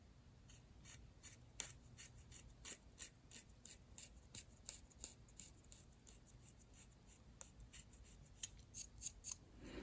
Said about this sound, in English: when I started scraping, it sounded real scratchy